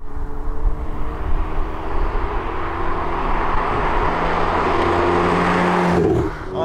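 A Ferrari 488 Pista Spider pulls away on a sunny road, its engine droning loud and close with a steady rising tone before the sound swells at the end.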